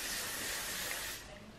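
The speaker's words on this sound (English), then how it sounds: "I just spray a little bit of that through my hair" Hair spray hisses in a continuous close burst onto hair for about a second, then cuts off, leaving faint room noise.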